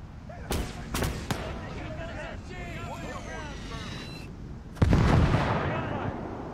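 Several heavy cannon booms ring out in a World War II battle in the game Gates of Hell: Liberation, a couple early and a loud blast near the end, with shouting voices and whistling in between.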